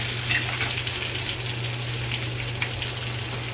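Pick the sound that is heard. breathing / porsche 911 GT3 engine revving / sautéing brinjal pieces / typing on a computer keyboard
sautéing brinjal pieces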